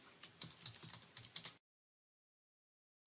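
Quick bursts of keystrokes on a computer keyboard while entering text in Trelby screenwriting software, a close run of clicky taps lasting about a second and a half before the sound cuts to silence.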